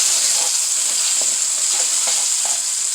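Green onions fry in a pan with a loud, steady sizzle and hiss while a utensil stirs them in a few soft scraping strokes, close up with no talking.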